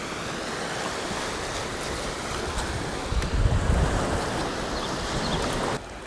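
Steady surf and gusting wind roll in at a Lake Erie beach on Canada's north coast, a constant broadband wash with a louder surge midway and wind buffeting the microphone.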